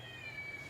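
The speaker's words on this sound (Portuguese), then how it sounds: "É um gato no telefone." A cat's single faint, drawn-out meow carried over a phone line, thin and tonal against low background hum.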